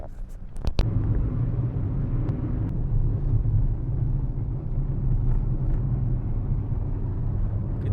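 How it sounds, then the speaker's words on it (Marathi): A car being driven on the road gives a steady low rumble of engine and tyres, close and continuous throughout, with a few brief clicks near the start and no talking. "मी एकटाच गाडी चालवणार आहे"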